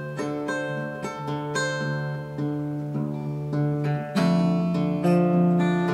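Fingerpicked acoustic guitar playing a song, calm and relaxed, with steady plucked notes over a thumbed bass line, close and clear with no talking.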